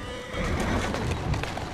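Horse in Assassin's Creed Syndicate, hauling a carriage through busy Victorian streets, gives a loud, close whinny and snorting over steady hoof clatter, with a voice talking across it.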